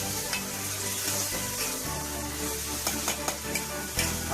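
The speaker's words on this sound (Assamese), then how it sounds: "আমি ইয়াত কাটি থোৱা কেঁচা জলকীয়া এড কৰিম।" Chopped raw green chilies frying in a pan for egg curry give a continuous bright sizzle. A few light stirring clicks sound up close over a steady low hum, and no one speaks.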